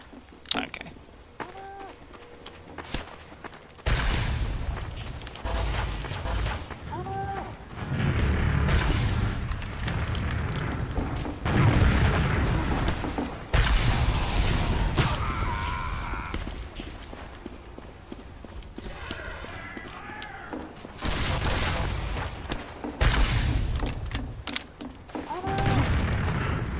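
Gunfire in the video game Team Fortress 2, bursts of shots and booms mixed with clattering game effects at mid distance, coming in irregular clusters while a player talks over it.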